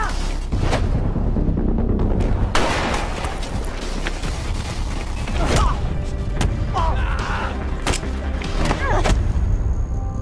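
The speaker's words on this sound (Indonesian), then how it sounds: "Bunyi tembakan menggema dari berbagai arah menyasar ke arah mobilnya." Gunfire in a film scene aimed at a car: dense repeated shots and booming impacts echo from many directions over a loud, busy mix, with speech faintly mixed in.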